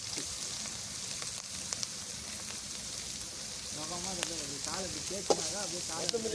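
Onions frying in a pan for beef gravy, a steady hiss and sizzle running throughout, with a few faint scrapes and a voice talking over it in the latter half.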